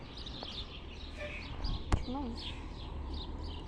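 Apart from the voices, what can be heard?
small birds chirping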